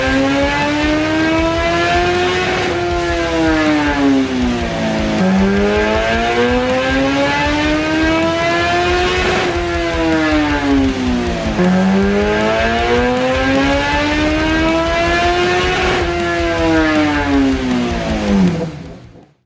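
A 2008 Kawasaki ZX-14 motorcycle engine revs loudly and steadily on a dyno, its pitch sweeping up and down in repeated cycles of rising and falling RPM, with no talking.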